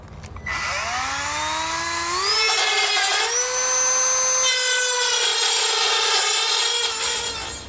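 A Dremel cutoff wheel cuts through thick metal on a Ford Explorer base plate, whining in a high, sustained shriek that rises in pitch as it bites in, steady and close throughout.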